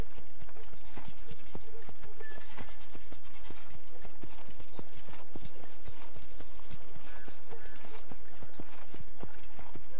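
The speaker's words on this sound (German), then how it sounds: "Hier muss ich langsam reiten." Horse hooves clip-clop at a steady walking rhythm as a rider moves slowly through an Assassin's Creed game scene, with faint background ambience behind the even, close hoofbeats.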